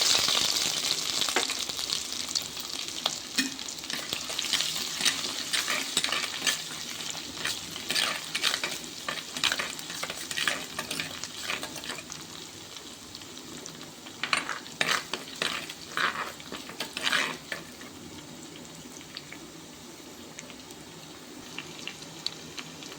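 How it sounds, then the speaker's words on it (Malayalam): Crushed garlic and ginger fry in coconut oil with fenugreek seeds in a pan for a sardine curry, with a loud, steady sizzle and frequent brisk scraping stirs, busier in the middle, and no voices. "ചട്ടിയിൽ വെളിച്ചെണ്ണ ഒഴിച്ച് ഉലുവായിട്ട് മൂപ്പിച്ച് കഴിയുമ്പോൾ നമ്മൾ മുമ്പ് എടുത്ത് വെച്ചേക്കുന്ന വെളുത്തുള്ളി ഇഞ്ചി ചതച്ചത് ചേർത്ത്"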